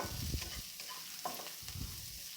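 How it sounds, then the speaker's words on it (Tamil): Onion, garlic and green chillies sautéing in oil for a spinach kootu, a soft background sizzle broken by a few spoon scrapes and stirring knocks, quiet and close. "இந்த எண்ணெயில் இந்த வெங்காயமும் பூண்டும் நல்லா வதங்கிடுச்சு"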